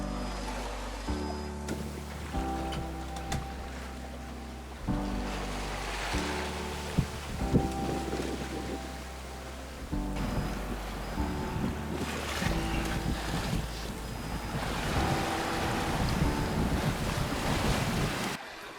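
Sailing yacht under kite sail charging through waves at about 6.5 knots in light wind, with steady wash of surf against the hull and wind buffeting the microphone throughout.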